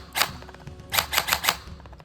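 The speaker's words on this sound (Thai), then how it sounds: "ยิงยิงไปเงี้ยยิงเพื่อให้ ลูกกระสุนมันไหลออก" An electric gel blaster pistol fires gel beads to clear its barrel, with a single sharp snap followed by a quick run of four clacking shots, close and fairly loud.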